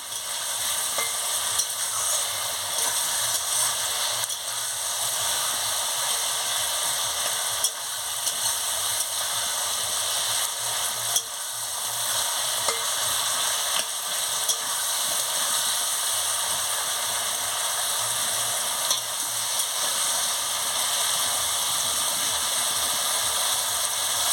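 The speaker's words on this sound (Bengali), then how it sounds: "ভালো করে আনাজগুলোকে কষিয়ে নিচ্ছি মশলা দিয়ে" Ridge gourd, snake gourd and potato are stir-fried with spices for a Bengali chorchori, a steady close sizzle with occasional scraping of a spatula and faint clicks, running unbroken and with no speech.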